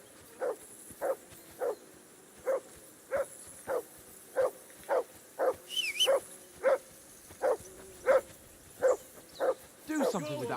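A dog barks in a video game, a steady series of about fifteen evenly spaced, fairly close barks in a regular rhythm, with a brief voice near the end.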